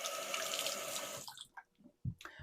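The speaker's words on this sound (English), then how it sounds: "I'm just going to do a quick rinse" Tap water runs into a sink for a quick rinse, a close steady splashing that stops after about a second and a half and is followed by a few drips and a short gurgle.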